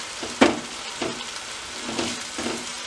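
A pan of okra milk curry bubbles and sizzles on the stove, with a few soft pops and stirring clinks over a steady hiss.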